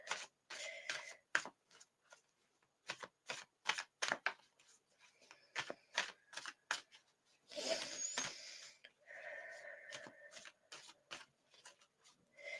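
Divination cards being shuffled during a reading, a run of quick, soft riffling flicks in bursts with a longer rustling shuffle midway, faint and close with no talking.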